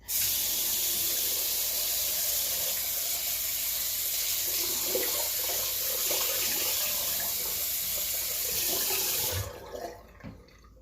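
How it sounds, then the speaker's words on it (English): Warm tap water runs steadily from a faucet into a sink for rinsing during cleaning, a constant near hiss that cuts off at the end, followed by a couple of faint handling clunks. "we're gonna rinse off with warm water"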